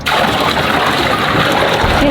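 Water pours loudly and steadily into a container holding a freshly caught fish, a close, continuous splashing gush with no voices over it.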